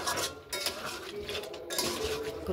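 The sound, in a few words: stirring a curry in a pan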